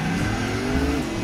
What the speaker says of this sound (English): Just hear the engine.